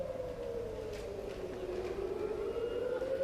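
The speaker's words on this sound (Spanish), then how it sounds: "Eso sí, una sirena de alerta. Esta es una alarma antiaérea." An air raid siren in Israel wails steadily at a distance, its tone sliding slowly downward as it sounds on without a break and with no one speaking.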